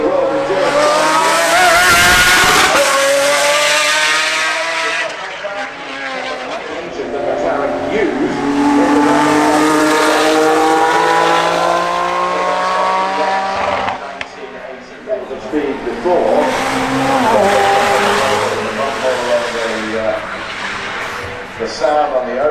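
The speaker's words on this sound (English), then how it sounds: "here's the new Ford GT Mark II, bereft of the restrictions that are bestowed upon it for the World Endurance" Ford GT Mark II race car at the Goodwood Festival of Speed 2019 hill climb, its engine roaring loudly and steadily through gear changes and revs across the run, with a crowd-laden outdoor ambience behind it.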